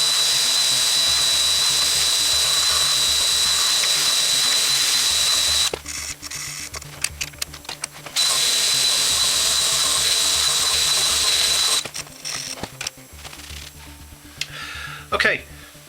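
A power tool, likely a drill with an abrasive attachment, strips rust and corrosion from the bare steel of a drum, running loud and steady in two long bursts with a handling pause between them and brief clatter at the end.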